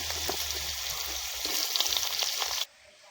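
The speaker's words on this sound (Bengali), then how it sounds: "তার জন্যে প্রথমে আলুটা ভেজে নেবো।" Potatoes sizzling in hot oil at an outdoor winter picnic, the start of a fish curry; a steady, bright frying hiss runs close and continuous, swelling slightly before cutting off abruptly near the end.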